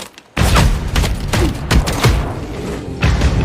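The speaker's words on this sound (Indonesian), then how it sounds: "setelah Abel mati ditembak oleh pasukannya Lendina, peperangan pun langsung dimulai" Gunfire in a battle scene, dense overlapping shots and thuds crackling loudly and almost continuously after a brief quiet start.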